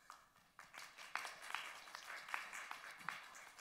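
An audience claps for two women leaders at an insurance conference session, a moderate round of applause that swells and holds steady with scattered sharper claps, somewhat distant in the hall.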